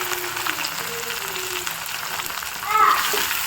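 Onion, tomato and green chillies frying in a pan, a steady loud sizzle throughout with a brief burst of stirring near the end, while someone speaks over it.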